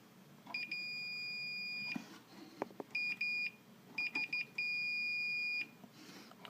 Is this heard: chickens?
no